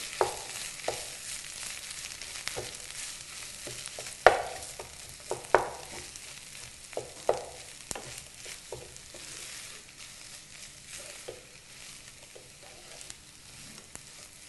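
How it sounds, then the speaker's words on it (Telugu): Potatoes stirred into hot tempering in a pan, with a steady low sizzle and repeated scraping and clinking from the spoon at irregular intervals, close and fairly quiet. "ఇప్పుడు ఈ ఆలునంతా పోపులో కలిసేలాగా కలుపుకోవాలి."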